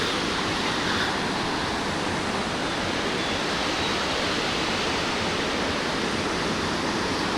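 Water from a waterfall in Old Manali rushes in a dense, steady roar that stays constant throughout, with no voices.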